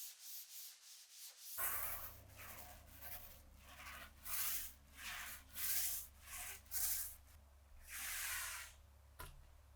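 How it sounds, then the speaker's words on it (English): A painted wooden wall shelf gets a light hand sanding, heard as repeated close, soft scratchy rubbing strokes in an uneven rhythm with short pauses between passes. "I hit it with a light sand and then applied a second coat of paint"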